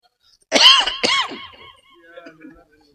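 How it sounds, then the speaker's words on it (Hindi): Two harsh, loud coughs follow close together, then trail off into faint throat sounds and breathing from an elderly preacher during a Ramadan sermon. "खांसी उठ जा रही"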